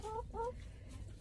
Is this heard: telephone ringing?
no